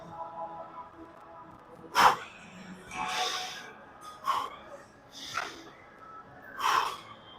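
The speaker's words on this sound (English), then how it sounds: "breathing through the nose is actually better for you" Sharp nasal breaths during a back-day gym workout, five or six forceful snort-like bursts spaced irregularly a second or so apart, close and loud over a quiet room.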